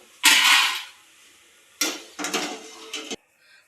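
Fried corn flakes are tipped from a frying vessel into another pot, giving a loud scraping, rustling pour, then a second longer bout of clattering rattles close by.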